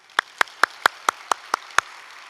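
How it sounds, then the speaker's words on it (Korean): A church revival gathering claps in unison: eight sharp, evenly spaced claps in a quick, steady rhythm, loud and close, with quiet between them. "박수 한번 칠까요?"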